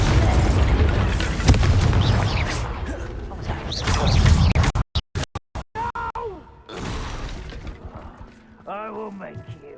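Confringo fire spell blasts in Hogwarts Legacy, a loud burst followed by stuttering cut-out impacts and debris, with a voice speaking through the effects.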